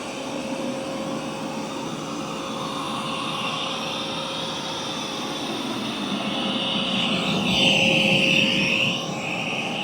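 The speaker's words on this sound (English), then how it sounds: "the Narwal Flow is vacuuming up this carpet" A Narwal Flow robot vacuum cleans carpet with a steady, close whirring drone that swells a little louder near the end, with no talking.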